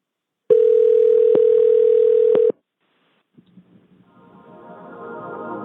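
A loud, steady telephone dial tone sounds for about two seconds while a phone number is being called, then cuts off. Silence follows, then a few faint clicks, and a recorded message starts to fade in.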